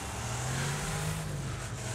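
A damaged car engine in the Wreckfest racing game drones and revs steadily, a rough mid-pitched motor sound held loud and continuous throughout with no speech.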